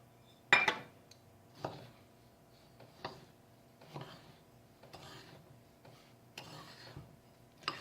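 Chili powder, asafoetida and salt being mixed for chammanthi: a series of separate scraping, clinking strokes of a spoon in a bowl, loud at the start and then softer, spaced a second or so apart, with no voices.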